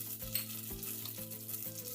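Mustard seeds, cumin, fennel and asafoetida sizzle steadily in hot oil up close, with rhythmic stirring scrapes repeating every half second or so.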